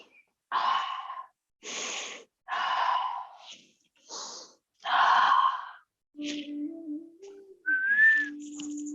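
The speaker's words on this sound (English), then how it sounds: "Breathe in, breathe out." During a spiral stretch, deep breaths in and out come as a series of close, airy bursts separated by short pauses, followed near the end by softer, whistle-like breathy tones.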